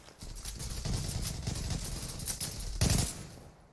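Rapid automatic gunfire in the Zula online shooter, a dense rattling stream of shots building in loudness, then a heavier close burst near the end before tapering off.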